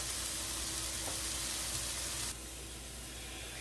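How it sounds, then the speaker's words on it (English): Vegetables for stuffed bell peppers sauté in a pan, giving a steady hissing sizzle that sounds close and even, then drops slightly in level partway through, with no one talking. "what I'm going to do is saute these off"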